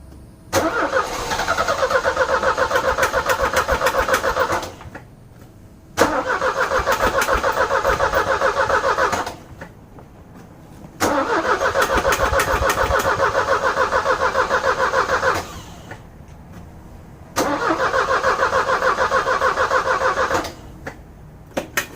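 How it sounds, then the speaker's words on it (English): A 1985 Mercedes 190E 2.0 engine cranks repeatedly in four long bursts of several seconds each, a steady rapid whirring with short pauses between, never catching to run. "So let's see if we can get her started up."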